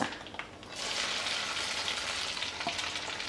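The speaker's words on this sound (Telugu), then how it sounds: "ఆవాలు ఇవన్నీ వేసేస్తున్నా మెంతులు ఆవాలు మినపప్పు శనగపప్పు ఇదిగోండి వెల్లుల్లిపాయలు కూడా" Mustard seeds, fenugreek, black gram, chana dal and garlic frying in hot oil for a red chilli brinjal pickle, giving a dense, steady crackling sizzle that swells after a moment and stays close and loud throughout.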